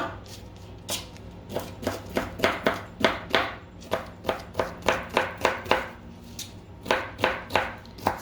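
Knife chopping ingredients on a cutting board for a ham and sweet potato crockpot stew, a steady run of close, crisp strikes in quick bursts with short pauses between, no talking.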